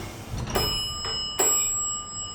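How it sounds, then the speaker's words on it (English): An old Otis elevator bell rings out in a few spaced strikes, each leaving a bright, lingering tone that fades slowly in a quiet space. "Listen to this. Listen to the bell."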